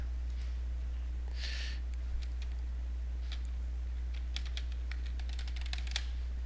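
Rapid computer keyboard typing during a multiboxing World of Warcraft session, leveling shaman characters; clusters of quick clicky keystrokes, close and fairly faint, with the densest burst near the end over a steady low hum.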